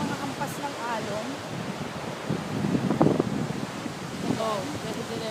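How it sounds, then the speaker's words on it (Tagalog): Ocean waves wash onto the shore at South Batan as a steady rushing surf, mixed with wind noise on the microphone, with voices talking over it throughout and a louder swell near the middle. "ang maririnig mo lang ay ang mga hampas ng alon"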